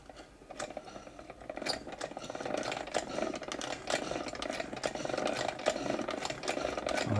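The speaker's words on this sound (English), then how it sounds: "let's do a test run here, see if the machine will actually sew after all these years" An old Vulcan toy children's sewing machine runs in a test, giving a fast, close, rhythmic rattle and clicking of stitching that builds from a quiet start and keeps going unbroken.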